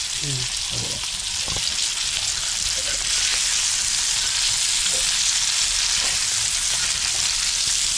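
Fish sizzles steadily in a hot pan of oil while it is flipped during cooking of a fish curry, a dense, continuous crackle throughout with faint scraping and a few brief voice fragments near the start.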